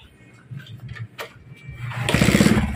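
A freshly overhauled Bajaj CT 100 motorcycle engine cranks after some scattered clatter, then catches and runs with a quick, pulsing putter that grows louder toward the end.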